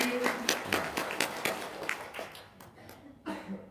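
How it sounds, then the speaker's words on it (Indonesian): A small group claps briefly at an indoor gathering, scattered claps that thin out, with quiet voices near the end. "Tepuk tangan dulu"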